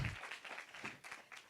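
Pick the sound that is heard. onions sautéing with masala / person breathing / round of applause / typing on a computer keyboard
round of applause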